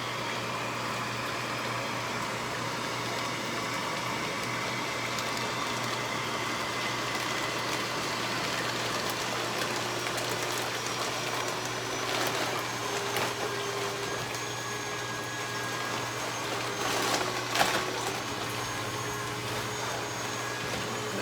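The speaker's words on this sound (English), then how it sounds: "Here's the inflation video of this blower here." BFB1012GH 12V DC blower inflating an inflatable sumo suit, a steady, continuous whirring hum with a low drone that holds at an even level throughout, with a few faint knocks near the end.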